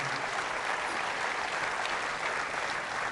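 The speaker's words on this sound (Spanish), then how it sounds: "Fuertes aplausos a Jesús por su amor y su misericordia." Steady applause from a church congregation gathered for a sermon by a Catholic priest, dense clapping filling the space evenly from start to finish with no speech over it.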